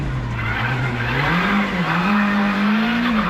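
A rally car launches from a standing start at a stage event, its engine roaring loudly and steadily as the pitch climbs through the run, close and continuous with tyre noise mixed in and no talk.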